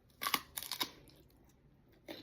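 Crisp crunching bites into a green mango eaten with bagoong, a few sharp crackly bursts close to the mic with quiet gaps between them and another bite at the end.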